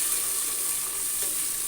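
Onions and tomatoes fry in a pan with a steady, close, bright sizzle and light stirring, continuous and without any voice.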